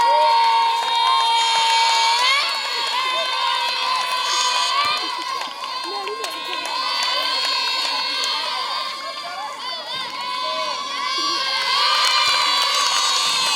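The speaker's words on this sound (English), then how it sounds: "playing basketball, netball, volleyball to the cheering of the crowd" A large crowd cheers and children shout without a break while people play basketball, netball and volleyball at a camp for displaced people in Edo State, with loud overlapping voices throughout.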